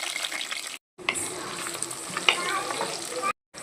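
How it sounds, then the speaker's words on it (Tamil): Brinjal frying and being stirred in oil in a clay pot, a steady close sizzle with scraping stirs and a few brief gaps, no talking. "எண்ணெயிலேயே கத்திரிக்காய் நல்லா தொக்காகிற வரைக்கும் வதக்கிட்டே இருங்க."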